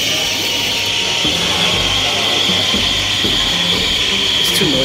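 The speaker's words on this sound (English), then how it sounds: "Let me steam this first." An espresso machine's steam wand steams milk for a cappuccino, producing a loud, steady close-up hiss and gurgling roar that fills the whole stretch.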